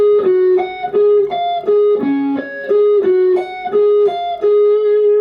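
Electric guitar plays a riff slowly, a clear melodic line of sustained single notes with short gaps between phrases, loud and alone.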